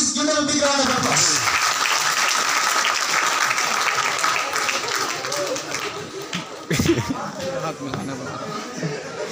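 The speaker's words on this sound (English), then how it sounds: "please give them a big round of applause." A crowd at an engineering college in Bangalore claps steadily for several seconds, broad and sustained applause with a brief louder burst near the end.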